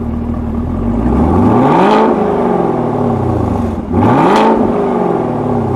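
A 2017 Chevrolet Camaro ZL1 in neutral gives two loud, throaty revs, each rising steeply to a peak and falling away, with a steady idle rumble in between.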